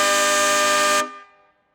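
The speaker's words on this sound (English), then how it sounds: "a train horn." A train horn fitted to a refurbished 1962 Dorsett Catalina jet boat blasts one loud, steady, chord-like tone for about a second, then cuts off with a short fading ring.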